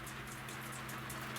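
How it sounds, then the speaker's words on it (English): Rain falling on a tiny house during a thunderstorm, a faint, steady patter of drops with soft irregular taps, heard briefly with no voices. "Sounds like the rain's slowing down though,"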